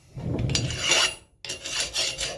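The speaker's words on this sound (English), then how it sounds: "I might go over this with a stone as well" Sharpening stone rubbed over a metal part from a Case 680CK backhoe being prepared for installation, giving close rasping strokes, a longer scrape, a brief pause, then more steady rubbing.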